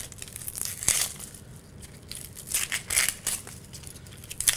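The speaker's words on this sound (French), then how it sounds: "Nous allons maintenant éplucher nos oignons." Papery onion skins crackle and tear as a sharp knife strips them from the onion, a close, irregular series of dry crinkling rustles with a few sharper snaps.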